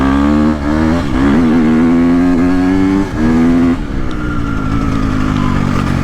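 A 2022.5 KTM 250SXF Factory Edition dirt bike rides close by, its high-pitched four-stroke engine revving up and dropping through several quick shifts, with a brief hesitation partway through.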